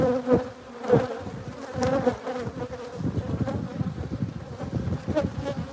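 Honey bees swarm around an open hive during a brood frame inspection, a dense close buzz that rises and falls steadily with a few louder swells near the start.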